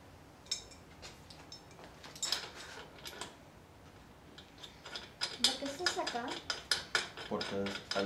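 Metal wrench clicking and clanking against the parts of a Huffy Scout 24-inch kids' bike, with irregular taps and ratcheting ticks growing busier toward the end, under intermittent talk.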